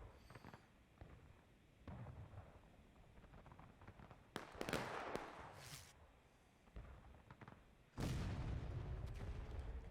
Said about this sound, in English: Confederate guns starting to counter battery